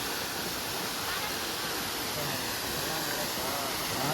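At Muthyala Maduvu falls near Anekal, water pours in a constant hissing roar that holds level throughout, a dense wash of noise with no distinct events.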